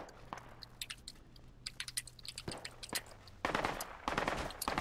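Gunfire in the military shooter game Project Reality pops out in scattered single shots and short bursts, faint at first and growing louder and denser toward the end, with no talk over it.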